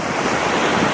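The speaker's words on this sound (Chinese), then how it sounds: "户外海边的情况。" Ocean surf on a seashore outdoors, a dense continuous rushing hiss of breaking waves, close and steady throughout with no voices.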